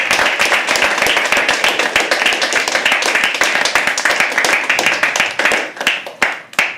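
An open mic poetry audience at The Habitat gives a round of applause for a poet, with dense steady clapping from a roomful of people that thins into a few scattered claps near the end.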